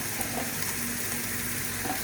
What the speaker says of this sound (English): All right, so pan's heated up. We're gonna add our garlic and our shallots.